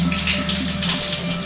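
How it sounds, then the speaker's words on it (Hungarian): Water streaming steadily from a leaking shower and wall pipe down onto a bathroom floor, a continuous close splashing rush with no pauses. "És amikor zuhanyzol, akkor ez az egész folyik ide le a padlóra."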